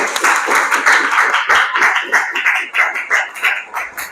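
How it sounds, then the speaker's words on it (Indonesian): Students in a vocational high school classroom clap together after a class cheer, a dense run of hand claps settling into a looser rhythm toward the end, fairly close and loud with no talking over it. "Ya, tepuk tangan untuk kalian."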